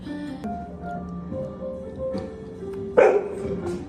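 A dog nearby lets out whiny yips and a sharp bark, with soft whimpering sounds in between.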